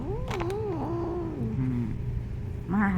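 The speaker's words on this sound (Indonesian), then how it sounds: "Rupanya kucing kalau nggak saling kenal gini ya suaranya dia marah ya, nggak mau dideketin ya." An angry cat faces an unfamiliar cat indoors, giving drawn-out, wavering growls and yowls at close range, with a sharp rising cry near the end and no talking.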